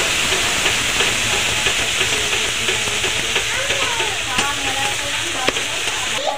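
Spice paste with turmeric powder and a little salt frying in a pan for a Bengali mustard-poppy fish curry, a steady close sizzle with light crackles throughout.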